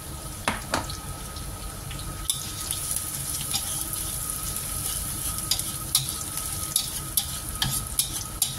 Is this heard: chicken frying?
yes